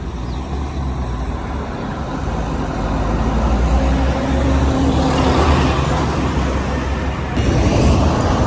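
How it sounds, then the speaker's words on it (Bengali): Traffic roars past on the Dhaka to Chittagong highway, a loud continuous rumble of cars, buses and trucks close by, swelling as a heavy vehicle passes toward the end. "আমরা এখন ঢাকা টু চিটাগাং হাইওয়ে রোডে আছি, একটু ব্রেকে থামলাম।"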